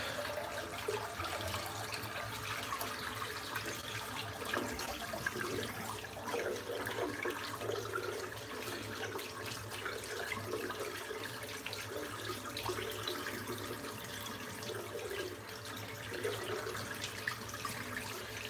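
Tap water runs steadily while a shaving brush is rinsed out at a sink after a head shave, a continuous close wash of flowing and splashing water with no talking.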